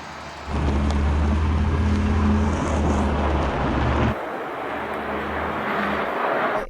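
Audi RS3 quattro climbing a snowy slope, its engine a loud, steady roar that rises, then drops sharply partway through and carries on at a lower, strained pitch as the car presses uphill.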